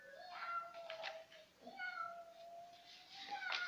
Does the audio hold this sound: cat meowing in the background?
yes